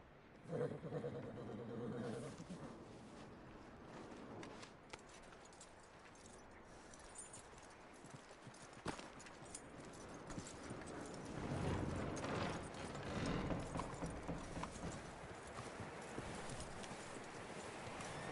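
Steady clip-clop of horse hooves at a walking pace in Red Dead Redemption 2, with jingling tack and creaking mechanical sounds woven through, fairly close and continuous.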